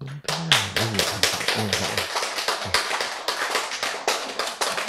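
An audience at a Bible lecture claps in a rapid, sustained burst of overlapping sharp hand claps, loud and close, with a brief spoken word at the start.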